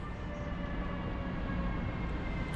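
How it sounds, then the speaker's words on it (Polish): An Express Intercity train, the Bolesław Prus bound for Szczecin, pulls onto track 10 at Warszawa Wschodnia, giving a steady, dense rumble with faint high tonal whines throughout. "Na tor 10 podstawia się kolejny skład Express Intercity, tym razem Bolesław Prus, który pojedzie do Szczecina"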